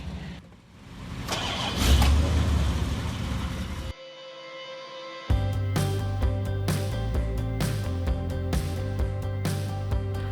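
A car engine rumbles and revs up close for a few seconds. After an abrupt cut, a steady droning passage with strong low tones continues loudly to the end.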